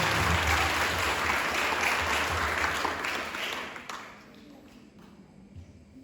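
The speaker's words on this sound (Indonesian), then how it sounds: "Beri tepuk tangan yang meriah" An audience gives a lively round of applause for a speech contestant at a district-level competition, dense clapping that holds strong and then tapers off to a few stray claps and near quiet.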